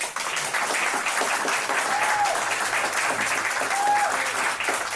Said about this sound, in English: Just another round of applause for these guys.